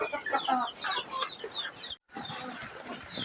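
Caged chickens and chicks cluck and cheep busily at close range in a dense, overlapping chorus, broken by one brief silence before resuming.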